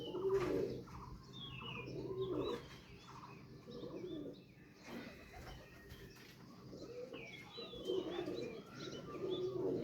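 A female teddy high-flyer pigeon coos in soft repeated low bursts, close but quiet, with faint chirps and occasional light movement around it.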